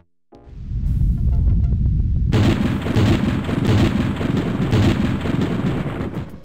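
Storm thunder in the video game Day of the Tentacle starts as a sharp crack, then swells into a loud, sustained rumble that rolls on for several seconds.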